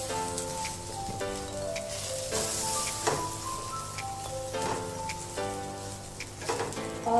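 Aloo tikki fry in oil in a pan, a continuous crackling sizzle like light rain with occasional pops and faint tonal clinks, steady throughout.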